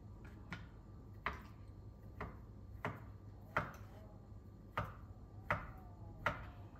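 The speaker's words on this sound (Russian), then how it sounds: "режем наш салатик оливье" A knife chops salad vegetables into medium cubes on a cutting board in sharp, evenly spaced strokes, about eight cuts at a steady unhurried rhythm, close and clear.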